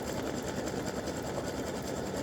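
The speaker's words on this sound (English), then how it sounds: "Alright, so it's doing the satin stitching, which gives the bow some definition." An embroidery machine satin-stitching a bow design runs with a fast, steady mechanical whir and needle chatter, continuous and close throughout.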